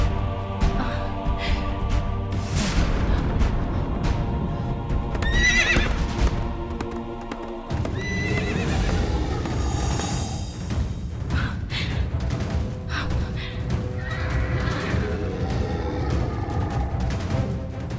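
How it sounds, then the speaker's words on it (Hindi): A horse whinnies and its hooves clip-clop in a dramatic Hindi TV serial scene, the neighing repeated over steady hoofbeats and loud layered background music, with no talking. "घोड़े की आवाज आ रही है।"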